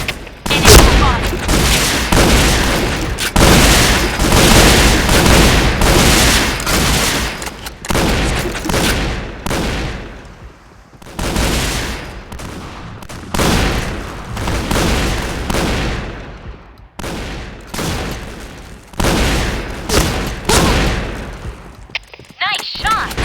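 Loud, rapid gunfire from the shooter game Point Blank, apparently shotgun blasts, fires in dense repeated bursts with short pauses, while brief game voice callouts sound in between.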